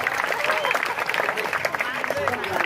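Audience applause for Pak Ikut at a Calonarang performance in Mengwitani village, a steady wash of clapping heard throughout the clip over a busy crowd with voices mixed in.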